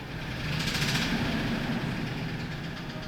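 A Ford F-150 engine with a knocking fault runs steadily, a rough low drone with a faint rhythmic ticking over it, moderately close and fairly quiet.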